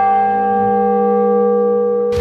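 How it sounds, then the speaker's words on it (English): A large church tower bell rings with a deep, sustained tone that hangs in the air, then a short clattering knock at the end. "We got to go up in the bell tower and ring the bells."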